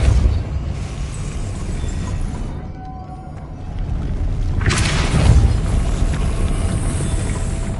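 A Depulso force spell blasting in the Hogwarts wizarding game, a deep rumbling boom that swells and surges midway over a loud continuous low roar, no speech.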